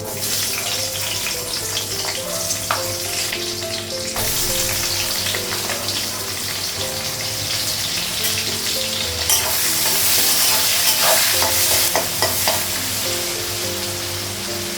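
Steady loud sizzling of panch phoron, green chillies and dried red chillies frying in hot oil, continuous throughout, with occasional clinks and stirring sounds.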